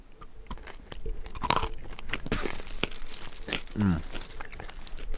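A crunchy peppermint candy, likened to a York peppermint patty, is bitten and chewed close up, giving several sharp crunches and crackles over a few seconds with brief faint voice sounds.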